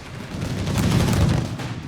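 Gunfire from Company of Heroes 3 in a 2v2 match on Operation DAK, with a dense, rumbling burst of shots rising in the middle, set against steady battle noise and no talk.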